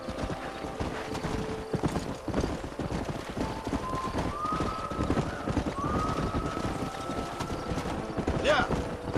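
Herded horses gallop in Red Dead Redemption, a steady, dense patter of hoofbeats with occasional whinnies, continuous and fairly loud throughout with no talking.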